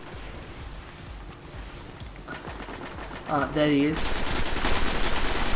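Pulse rifle bursts in a Destiny Crucible PvP match, rapid fire in short bursts that grows louder and denser toward the end, with a brief spoken line partway through.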